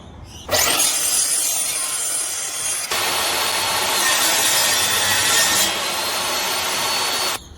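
Wood being cut down by about 22 mm so a board fits inside a custom bathroom medicine cabinet; a loud, continuous power-saw cut with a rasping, steady rip that runs almost the full length with no talk.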